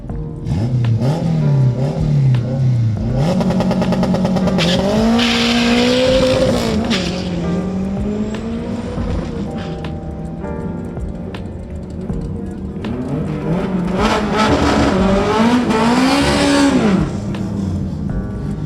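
A Honda Civic with a B-series engine and a BMW 5 Series drag race in Jamaica. Loud engines rev and accelerate with rising whines, tires squeal, and the din carries through the whole stretch while people talk underneath.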